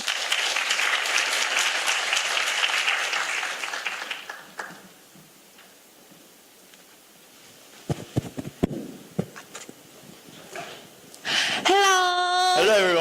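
An audience applauds a high school team at an English talk concert, a broad, steady wash of clapping that fades out, leaving near silence before scattered sounds and a voice come in at the end.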